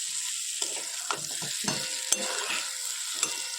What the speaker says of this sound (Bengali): আজকে সোয়াবিনটা জবরদস্ত রান্না করব